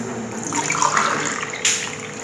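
Water poured from a cup into a pot while making rasgulla syrup from sugar and water, a steady splashing gush rising midway with a brighter splash near the end, close and fairly loud.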